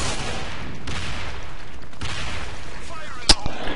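Assault rifle fire in the online shooter Sudden Attack, with several loud bursts of shots in quick succession and a sharp crack near the end, over continuous game noise.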